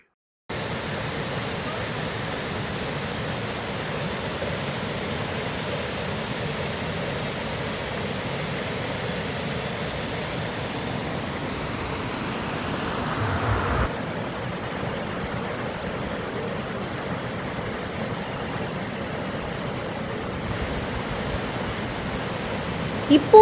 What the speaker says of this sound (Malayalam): ഞാൻ ഇവിടുത്തെ ആ വെള്ളച്ചാട്ടത്തിൻ്റെ ശബ്ദം അതേപോലെ തന്നെ എൻ്റെ വ്യൂവേഴ്സിലേക്ക് എത്തിക്കുകയാണ്